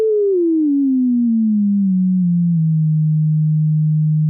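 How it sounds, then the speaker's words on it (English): A sine wave oscillator from a Collide 4 synth module hums as a pure, steady tone that glides smoothly downward in pitch, wobbles slightly, then settles into a constant low drone, loud and alone. "we'll grab a sine wave out of the Collide 4"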